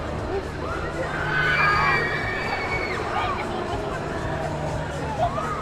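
Crowd of riders screaming and shrieking together on a fairground ride, a continuous blend of high wavering cries over a dense background roar of machinery and babble in a busy evening city setting.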